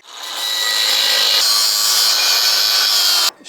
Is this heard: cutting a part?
yes